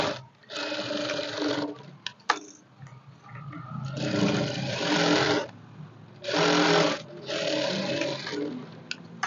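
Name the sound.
sewing machine stitching a blouse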